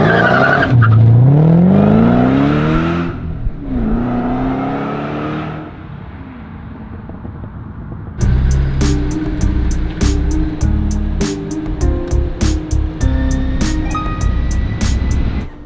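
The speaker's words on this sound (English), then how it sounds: "I'm getting to drive your car, man" A 1967-style 2012 GT500 muscle car squeals its tires loudly in a long skidding slide, then its engine revs hard and roars through quick gear changes, close and dominant throughout.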